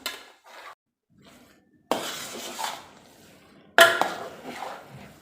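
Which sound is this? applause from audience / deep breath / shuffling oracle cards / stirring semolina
stirring semolina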